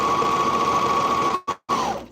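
A serger sewing machine runs at a steady, close whirring hum with a faint whine, then cuts out abruptly twice in quick succession near the end before starting up again.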